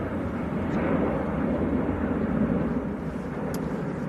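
Steady, broad jet engine rumble from aircraft taxiing at Manchester Airport, a continuous distant roar with no talking.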